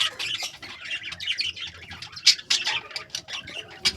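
Busy, overlapping chirps and short squawks from several lovebirds close by, with no talking.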